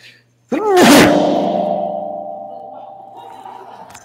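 A single sudden sneeze bursts out loudly during a church sermon, then rings on with a long, echoing electronic hum that slowly fades.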